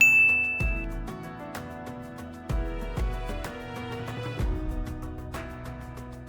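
A bright notification-style ding rings out, followed by a sequence of struck, chime-like tones with ringing decays layered over soft low notes, clear and close.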